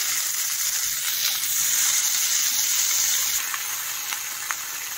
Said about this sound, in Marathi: एकत्र करून हे सगळं भाजून घ्यायचं आहे।